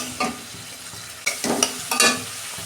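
A spatula stirs and scrapes fish curry masala of chili powder and a little water in a frying pan, with a soft sizzle and a few sharp scraping strokes close by.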